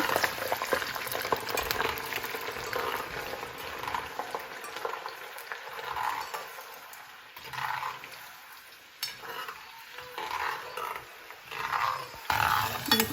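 Garlic fries for tomato pachadi, a fluctuating sizzle and bubbling hiss in a pan that swells and fades in waves, with occasional stirring scrapes and no talking.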